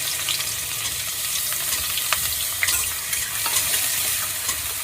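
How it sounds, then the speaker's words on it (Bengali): Onion fries in hot oil with a loud, continuous close-up sizzle. Faint crackles and light stirring scrapes come through now and then, and no voices are heard. "প্রথমে তেলটাকে গরম করে নিলাম, দিয়ে এবার পেঁয়াজটাকে একটু ভেজে নিলাম"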